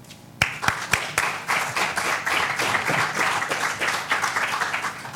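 An audience applauding speaker Antonio at a lecture on interventionism and ethics, opening with a few sharp separate claps that swell into steady, dense clapping from a room full of people, close and continuous.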